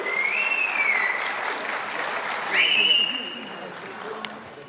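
Applause greeting a Yadav community leader onto the stage at an outdoor community gathering in Chhattisgarh, a steady broad clapping wash that swells briefly in the middle, with a whistle-like tone and some voices mixed in.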